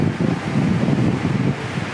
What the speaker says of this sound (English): You can hear that wind roaring.